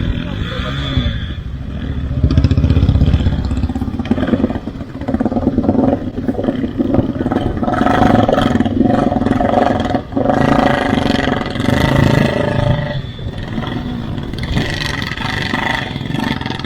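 A motorcycle engine roars and revs continuously at close range during a rough river crossing on the Kaza to Manali route in Spiti, under rushing water and shouting voices.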